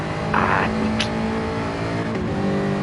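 GT-class race car engine droning steadily at high revs around Monza in a racing game, close and loud, with a brief rise in pitch as the throttle opens and no voices.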